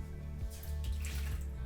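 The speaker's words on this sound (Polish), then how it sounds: "Wodę wylewamy" Water is poured out of a cooking pot into a sink, a short, close gush that splashes and gurgles for under two seconds.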